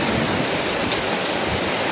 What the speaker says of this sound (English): you can't really see like the rain coming down